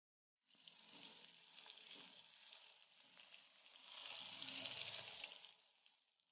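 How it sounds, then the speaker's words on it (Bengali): Pieces of pointed gourd (potol) fry in about five spoons of mustard oil, a soft steady sizzle that starts after a brief silence and swells slightly toward the end, heard alone at low volume. "এবার প্রথমে পটলগুলোকে ভালো করে ভেজে নেব।"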